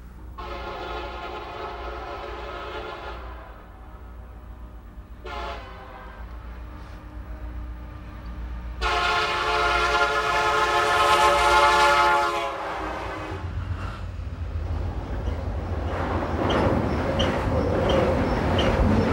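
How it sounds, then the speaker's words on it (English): An American steam train passes nearby, its rumbling rolling stock joined by a loud, sustained multi-tone horn blast midway, followed by rhythmic clattering of cars and hissing as it continues by. "We catch the same train just east of town."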